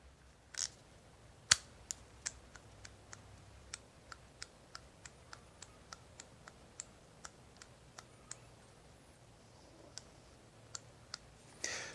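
A Gearwrench 120XP flex ratchet is turned, producing a quiet, steady series of sharp, evenly spaced clicks close to the microphone.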